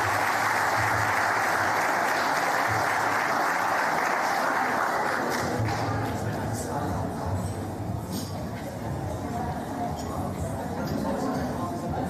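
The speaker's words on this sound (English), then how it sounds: "let's have a round of applause for Sharon's son" An awards-ceremony audience applauds for a sports award, a sustained wash of clapping that tapers after several seconds into a voice speaking.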